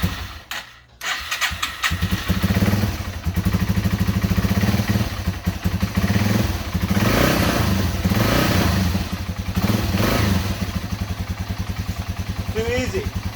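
Yamaha TW200 motorcycle started on choke after a carb clean, cranking briefly and catching, then settling into a steady, loud, close idle that keeps going alone with no talk.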